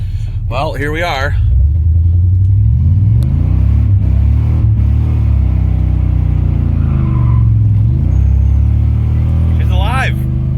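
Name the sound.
Chevy K2500 6.5 diesel truck engine running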